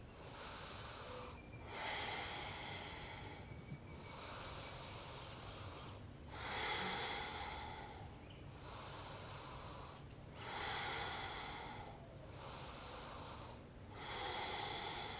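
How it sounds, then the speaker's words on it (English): Slow, steady breathing held in a yoga goddess pose: six or so airy inhale-exhale cycles, evenly spaced about two seconds apart, soft and close with no talk. "breathing for 5"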